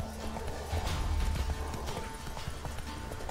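A horse's hooves clip-clop at a steady walking rhythm in The Witcher 3 video game, moderately close over a low ambient rumble with no talking.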